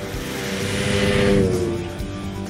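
An old vintage snowmobile engine runs steadily, a loud continuous mechanical drone that swells a little midway before easing off, with no voices.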